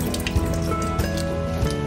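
Steady running water rinses romaine lettuce in a home kitchen, with light splashing and dripping throughout.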